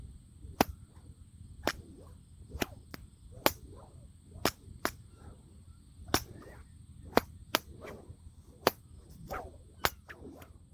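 A whip cracks repeatedly through a level 3 routine that starts with overhead and reverse cracks, sharp loud snaps coming at a brisk, fairly regular pace with soft swishes between them and a faint hum underneath.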